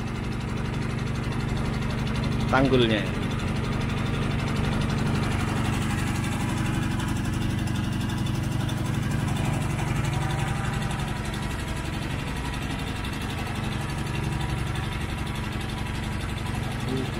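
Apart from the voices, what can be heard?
boat motor engine running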